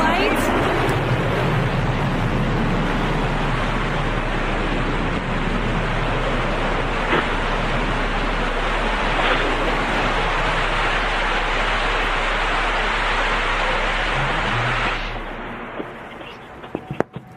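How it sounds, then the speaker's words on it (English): New Shepard rocket booster relighting its engine and landing, a loud continuous broadband roar that holds steady for about fifteen seconds, then cuts off abruptly and leaves faint crackles. "And a beautiful landing for the New Shepard booster, kicking up some dust."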